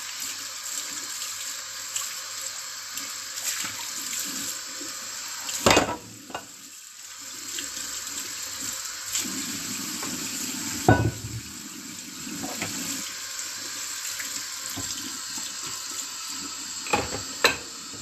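Water runs steadily from a kitchen tap while items are rinsed and washed after baking mini quiches and pizzas in a flexible silicone mould, with occasional louder clatters over the continuous flow.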